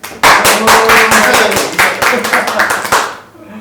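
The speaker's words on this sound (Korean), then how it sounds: "우리 박수 한번 해주세요" Hands clap in a brisk, steady burst of about three seconds from a few people at an indoor local-policy forum panel, close and fairly loud before trailing off, with faint voices murmuring underneath.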